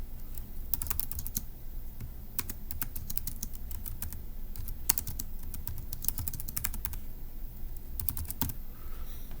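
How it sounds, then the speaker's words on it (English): Quiet clicking of a computer keyboard as notes are typed, bursts of quick keystrokes separated by short pauses over a low room hum. "let me go ahead and type that up in our notes"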